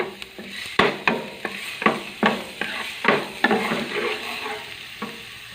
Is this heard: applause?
no